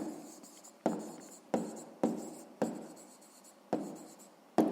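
A pen writes an answer on paper in six separate scratchy strokes, each starting sharply and then fading. The sound is quiet and close, with no voice.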